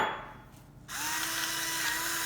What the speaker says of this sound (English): my pepper grinder has a flashlight at the bottom of it